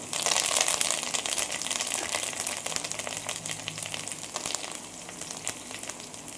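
Onions and curry leaves sauté in a pan with a steady, close crackling sizzle and occasional stirring scrapes, continuous throughout with no talking.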